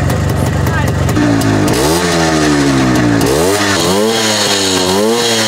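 Motorcycle engines rev and rumble loudly at a bike parade in Uzhhorod, with sport, enduro and vintage army-style machines. Pitch rises and falls as the throttle is worked, and the noise is constant and close.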